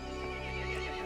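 A horse in the video game Resident Evil Village whinnies briefly, a strained, buzzy neigh at moderate volume with a clip-clop texture underneath.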